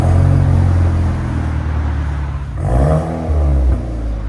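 A car with two different aftermarket muffler brands combined on its exhaust revs loudly and up close, a deep sustained engine roar that dips briefly and then surges again.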